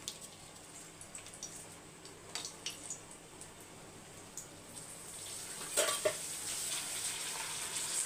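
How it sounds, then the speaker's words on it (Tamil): Appalam papads fry in hot oil with a faint, thin sizzle and scattered light clinks, the bubbling growing a little louder and brighter toward the end. "இப்போ வந்து நம்ம அப்பளத்தை வறுத்துக்கலாம்"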